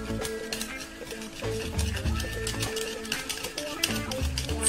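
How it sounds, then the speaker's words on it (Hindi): A spoon works tamarind chutney thickened with gram flour, smoothing out the lumps, with quick irregular clicks and scraping against the pot in a steady churning rhythm. "इसे हमें अच्छे से मिक्स करना है"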